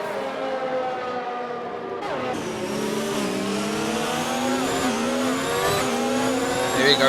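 Race cars accelerating hard on a Grand Prix track, engine pitch sweeping upward through gear changes, loud and continuous, with a commentator talking over them.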